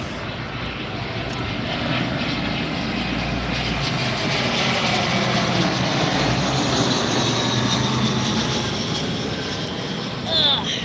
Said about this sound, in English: Coming in from Washington, DCA, this is American Airlines.